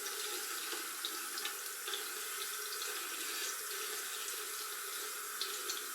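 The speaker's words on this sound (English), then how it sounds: "the last step is just to wash your face" Tap water runs steadily into a sink while someone washes their face during a skincare routine, a continuous hiss with small splashes and drips, close and unbroken, with no talking.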